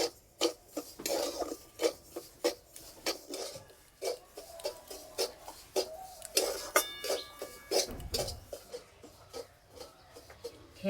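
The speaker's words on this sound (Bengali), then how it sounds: "হালকা আঁচে সুজিটা ভালো করে ভেজে নেব।" Semolina roasting in ghee in a kadai over low heat, stirred with a spoon that scrapes and taps the pan in a steady repeated rhythm, close and fairly loud, without talk.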